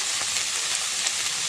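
Cauliflower pieces frying in hot oil, a soft steady hiss and crackle with a few faint pops, close and continuous.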